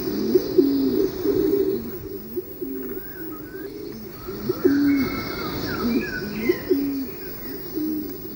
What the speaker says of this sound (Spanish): Los frutos de los laureles, por ejemplo, atraen a la paloma rabiche, una de las aves más interesantes y esquiva de las que habita en la caldera.